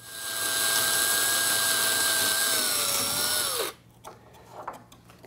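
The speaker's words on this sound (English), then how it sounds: "I'm going to just drill a hole from this side." Power drill boring a hole through a computer case, a loud steady whine with a high pitched tone that holds for several seconds, then sags and cuts off abruptly, leaving quiet handling noises.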